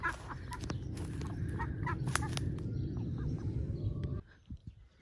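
Farmyard waterfowl on a small Highland smallholding give a dense run of quacking and clucking calls close by, steady for about four seconds before tailing off into a few scattered sounds.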